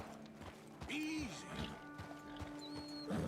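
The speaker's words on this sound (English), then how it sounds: "My horse is freaking out because of them." Horse neighing and whinnying in panic in Red Dead Redemption 2 as wolves approach, with hoof clip-clops and shuffling, a short whinny standing out over quiet game ambience and a voice talking.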